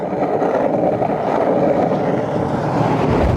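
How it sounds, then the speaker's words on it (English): A strong, sustained gust of wind roars across the open roadside while skating beside a highway with passing semi-trucks, a loud, steady, buffeting rush with no voices. "Wow, that was a huge gust."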